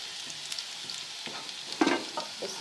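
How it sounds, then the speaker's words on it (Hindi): Tadka of chopped garlic, onion and ginger frying in ghee gives a low sizzle, with light stirring clicks and a brief louder crackle midway, close and with no talking. "लहसुन प्याज और अदरक जो है वो काट लिया था और घी डालकर जो है वो मैं इसको तड़का इसका तैयार कर रही हूँ"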